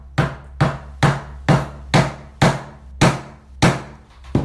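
A mallet strikes a leather stitching chisel while a wallet is being made, ten sharp, evenly spaced blows close by with short decays and no talking.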